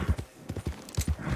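Horse hooves clip-clop in Red Dead Redemption 2 Online, a quick, uneven run of hollow thuds, close and fairly soft; no talking.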